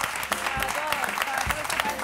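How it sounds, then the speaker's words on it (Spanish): A studio audience at a television show applauds with a dense, steady patter of clapping that is fairly faint and continuous throughout. "Fuerte aplauso en pie para todos aquellos"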